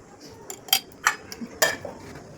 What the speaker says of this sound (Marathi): मिरची लसूण भाजून घ्या